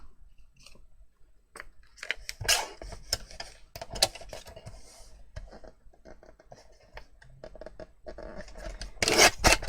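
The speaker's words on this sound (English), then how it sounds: "I'm just going to trim those down as well" Paper card mats trimmed with scissors for a handmade pop-up slider card, close and clear, with a run of short snipping and rustling cuts and louder scraping bursts near the end.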